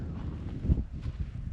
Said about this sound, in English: it is quite windy here, as you can hear right now